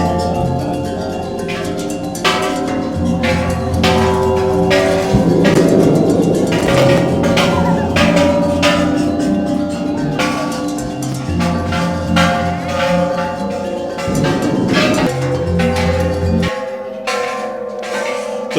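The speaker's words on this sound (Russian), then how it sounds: "Тут вместо колокольчика, видите, арматурина висит." Loud, repeated metallic clangs ring out over a dense, busy background as a hanging steel rebar is struck in place of a bell, at a budget river transport stop in Thailand.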